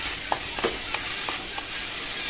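Banana flower curry with soybean and potato stirred in a pan, a soft continuous sizzle broken by a few light scraping knocks of the spoon, close and fairly quiet.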